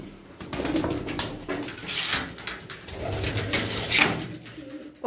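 A team of eighteen blue racing pigeons coo close by, with throaty rolling calls overlapping steadily and a few louder notes rising above the murmur.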